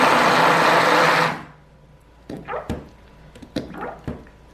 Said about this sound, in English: I'm going to have to clean off my blender.